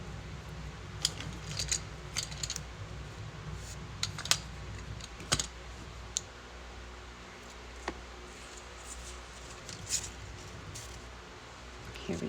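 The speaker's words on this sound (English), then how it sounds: "I'm going to trim those guys at the" Scissors trim the ribbon ends of a homecoming mum, sharp snips scattered over several seconds against a quiet room hiss, with soft rustling between the cuts.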